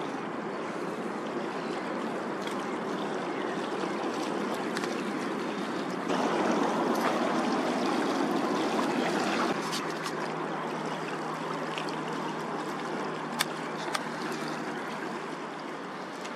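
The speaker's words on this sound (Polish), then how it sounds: "To jest owszem woda poburzowa, ale razem z berglem, czyli razem ze ściekami." Storm water mixed with sewage flows steadily in Poland, a continuous rushing, gurgling wash that swells louder for a few seconds midway, with no voices present.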